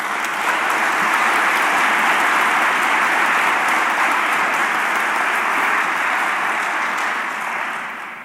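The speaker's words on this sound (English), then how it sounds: "Please give them a round of applause." Sustained, dense applause from a large audience at an arts college convocation, loud and steady throughout before tapering slightly at the end, with no talk over it.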